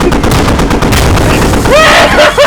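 Loud, close bursts of automatic rifle gunfire in the Squad military shooter, rapid cracking shots with whizzing ricochets, and a voice shouting briefly over the fire.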